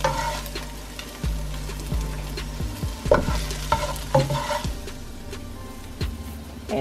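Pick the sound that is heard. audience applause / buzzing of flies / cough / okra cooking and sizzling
okra cooking and sizzling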